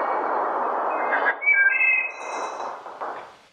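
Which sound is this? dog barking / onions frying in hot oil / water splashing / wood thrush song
wood thrush song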